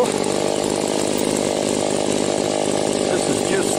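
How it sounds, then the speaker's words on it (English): Homelite 410 chainsaw fitted with round-grind chisel chain cutting through wood, a loud, steady close-up engine whine held at full throttle throughout with no break. "this is just the chisel chain, round grind, nothing special, but cutting real nice."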